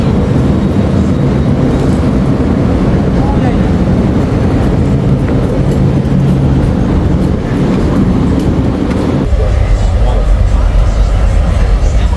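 Steady rumble and rattle of a train in motion around Venice, Italy, heard from inside the carriage, loud and continuous, with the tone dropping and shifting near the end as the ride changes pace; voices murmur faintly beneath.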